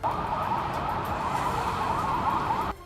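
Pakistani army vehicle sirens wail continuously at moderate distance over traffic rumble as the vehicles pass, then cut off abruptly near the end.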